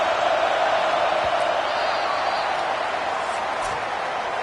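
Stadium crowd at a Stanford versus Notre Dame college football video game, a continuous loud roar of massed voices that stays even throughout, with faint scattered whoops rising above it.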